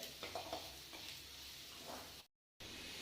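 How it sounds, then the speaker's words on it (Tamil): Whole spices dry-roasting in a pan for Tamil mutton kulambu give a steady close sizzle and crackle, with a few scraping stirs near the start, before a brief cut to silence and a return of the same frying hiss. "வறுக்கிறது தான் முக்கியம், நல்லா வறுத்துக்கணுங்கண்ணே"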